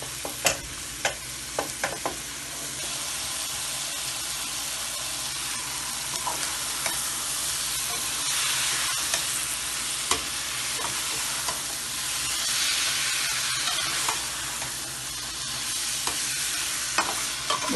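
Chicken pieces frying in a pan for palak chicken, with a loud steady sizzle and frequent sharp clacks and scrapes of a spoon stirring against the pan; nobody speaks.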